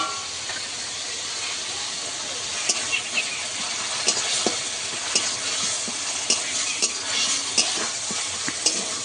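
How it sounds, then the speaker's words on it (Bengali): Onion, tomato, ginger and garlic paste sizzle steadily in a hot pan, with a constant frying hiss and occasional sharp scrapes and clicks of a spoon stirring, loud and close, with no talking. "আদা রসুন পেঁয়াজ টমেটো আমি ভালো করে কষিয়ে নিয়েছি"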